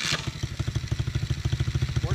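A Tao Tao DB14 dirt bike engine catches after a brief burst, then settles into a fast, regular thumping idle, loud and close, with a voice faintly present underneath.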